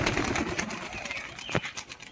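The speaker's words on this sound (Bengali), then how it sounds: "এই 5টা বাজে, পায়রাগুলো ছেড়ে দিচ্ছি।" Pigeons released from a rooftop at five o'clock in Halishahar, a flock of high-flyers taking off with a brief burst of wing flapping and soft coos over a busy outdoor background.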